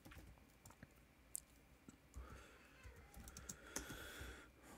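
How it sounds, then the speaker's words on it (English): Someone types on a computer keyboard, with quick irregular clicks and key taps that are close and fairly quiet, broken by short pauses. "My typing is very slow, guys, right now."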